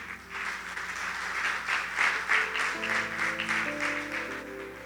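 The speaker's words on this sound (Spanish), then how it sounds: "Denle un fuerte aplauso al Señor." A church congregation claps loudly and steadily in praise for about five seconds, a full room of hands with a sustained keyboard chord underneath.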